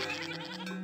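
A goat bleats once in the Farthest Frontier settlement game, a short, tonal, wavering cry heard clearly over soft ambient game sound.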